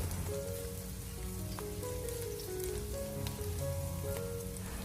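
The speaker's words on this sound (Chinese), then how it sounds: "下切好的姜和蒜，开小火给它翻炒一下" Ginger and garlic stir-frying in a wok over low heat, a steady dense sizzle with light crackles and occasional scrapes, continuous and fairly close, with music playing underneath.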